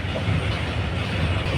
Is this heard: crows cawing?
no